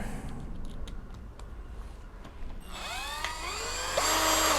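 A Topshak TS-ED1 18V cordless driver whirs up with a rising, whining motor pitch as it drives a screw using a different bit, preceded by faint clicks and handling noise, close and fairly quiet.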